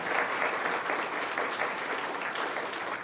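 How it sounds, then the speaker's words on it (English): An audience at a health panel on perimenopause and menopause applauds a doctor, steady, moderately distant clapping from a seated crowd sustained throughout. "can we have a round of applause for Dr."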